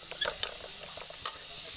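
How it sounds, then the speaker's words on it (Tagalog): Eggs cooking for breakfast in a home kitchen, a steady faint sizzle under a few light clinks and scrapes of a utensil against the pan, heard close and without any talking. "Then magluluto ako ng itlog."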